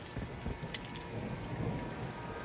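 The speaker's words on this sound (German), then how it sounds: "Es regnet sehr stark." Heavy rain in Call of Duty: Modern Warfare 2 (2022) pours in a dense steady hiss with low rumbling thunder beneath and a few sharper splashes.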